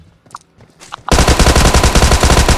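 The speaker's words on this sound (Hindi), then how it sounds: "थॉमसन के साथ एक बंदा लपेट दिया।" Thompson submachine gun fired in BGMI/PUBG, a loud sustained automatic burst after a second of quiet, rapid rattling shots running to the end.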